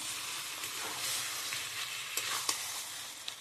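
Goat liver and tripe hit hot masala in a pan, raising a steady broadband sizzle with a few sharp spatters and clicks near the end, close and fairly quiet, no voices.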